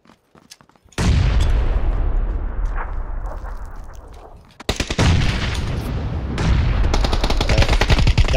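Loud, dense bursts of automatic gunfire in a PUBG battle royale match, nearly continuous with a short break midway, then rapid shots resuming close and heavy.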